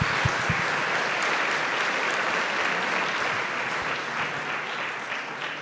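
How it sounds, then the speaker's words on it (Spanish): An audience applauds the young people during a church talk, a sustained, even roar of many hands clapping, moderately loud and unbroken for several seconds. "Démosle un aplauso a los jóvenes de nuestra patria."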